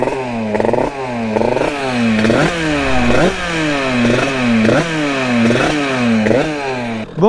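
A Rieju MRT Pro motorcycle with an 86cc aluminium top end runs steadily after restarting, its loud, close engine note rising and falling in repeated short revs with no voices.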